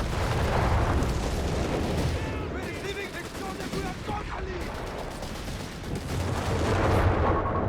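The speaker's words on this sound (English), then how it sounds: "got artillery calling the Panther 4s here" Artillery barrages in Company of Heroes 3, a dense, continuous roll of booms and gunfire rumbling loud throughout with no pause, close and heavy.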